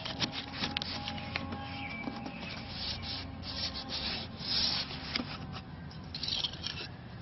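Blue painter's tape being burnished down by hand over a decayed wood window sill, giving a quiet, close rubbing and scraping with small irregular strokes and no talk.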